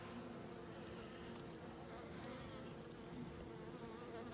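A steady, dense insect hum of many honeybees buzzing close by around a hive frame, continuous and even throughout with no voices.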